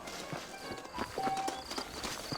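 Saddled horses' hooves clip-clop in Red Dead Redemption, a quiet, uneven run of soft hoof strikes under faint ambient game sound and a steady tone.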